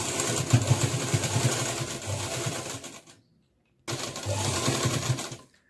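A sewing machine runs tape along a folded frock neckline in two loud, close stitching bursts, each roughly two to three seconds, separated by a brief silent pause.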